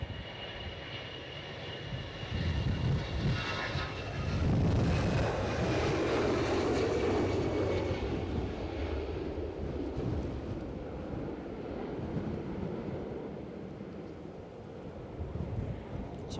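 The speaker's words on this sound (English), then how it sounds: "I like a Cessna Citation Sovereign Plus." Cessna Citation Sovereign Plus jet at Edinburgh airport on a day of strong gusty wind, its engines a broad distant roar that swells and slowly fades, mixed with wind buffeting on the microphone.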